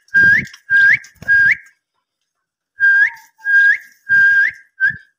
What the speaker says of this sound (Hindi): मैंने सीटी इनको मार रहा हूँ और मुझे जवाब दे रहे हैं ये डायमंड डब